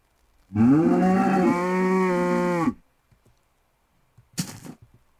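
A single long, loud cow moo from a 2D Minecraft-style video game with a synthetic quality, followed by quiet and a brief thud near the end.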